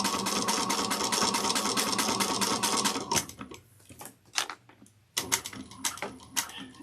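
A sewing machine stitches thick marine vinyl in a fast, steady run of rapid ticking for about three seconds, then slows into separate short back-stitch bursts and clicks, close and clear.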